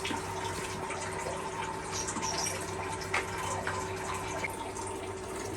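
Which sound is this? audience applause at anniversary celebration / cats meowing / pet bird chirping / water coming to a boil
water coming to a boil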